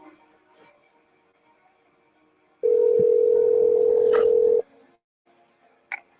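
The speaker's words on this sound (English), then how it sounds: "Nancy, quit playing with that phone and get back to work." Telephone dial tone in the Nancy Drew game Secrets Can Kill, a loud steady tone lasting about two seconds, set between quieter handset clicks and brief beeps.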